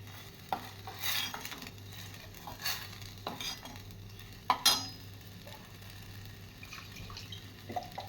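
A spoon scrapes and taps around a pot of peanut chutney in slow, uneven strokes, with soft clinks and a low background hum, close and fairly quiet.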